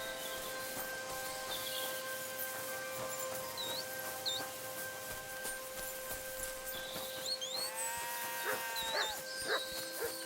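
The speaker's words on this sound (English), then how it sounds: "This must be the lost ram." A ram bleats a few times near the end over a steady electronic hum and soft ambience in Kingdom Come: Deliverance II.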